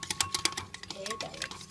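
A whisk beats custard in a bowl with quick, rhythmic scraping strokes, about ten in under two seconds, close and fairly faint, while a voice talks briefly in the middle.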